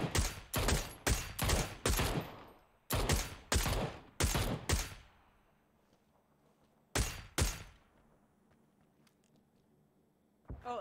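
Video game gunfire rings out in rapid bursts, several quick volleys of loud, close shots separated by short pauses, then a silent stretch before two final shots.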